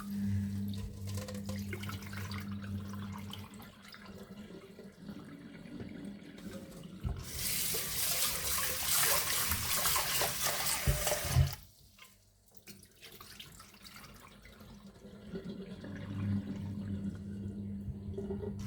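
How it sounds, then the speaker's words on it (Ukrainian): Tap water runs into a soup pot in a home kitchen, a steady rushing stream that swells loudly midway, then cuts off abruptly and gives way to quieter running and faint background noise. "Води набираю десь менше половини або половину каструлі."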